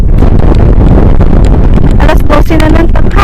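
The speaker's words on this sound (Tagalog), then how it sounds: "Sarap mahangin." Strong wind buffeting the microphone on a hiking trail at Arches National Park, a loud continuous rumbling gust throughout with faint rustling.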